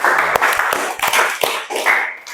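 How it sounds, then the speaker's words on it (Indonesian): A classroom of students gives a student a round of applause during an Islamic religious education lesson. A few scattered, uneven claps and taps sound close by over roughly two seconds, thin rather than a full ovation. "Tepuk tangan untuk Denis. Berikan aplaus."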